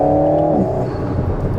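An Alpine A110's rear-mounted engine revs loud and close in track mode, a rising tonal whine that breaks off as it shifts, then settles into a rougher drone.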